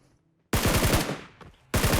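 Gunfire in the mobile battle royale PUBG Mobile on a Livik map: a sudden loud burst of rapid automatic shots, a short pause, then another burst starting, close and dominant.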